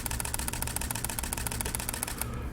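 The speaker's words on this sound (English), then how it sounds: "Let's try a faster shutter speed." Canon EOS M5 mirrorless camera shutter firing in high-speed continuous shooting, a rapid even burst of crisp mechanical clicks that runs steadily and then stops near the end.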